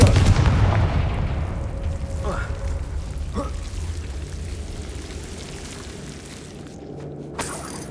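In the Hogwarts Legacy video game, a Confringo fire spell blasts with a deep boom at the start, followed by a fading rumble and a couple of faint whooshing streaks, with a sharp crack near the end.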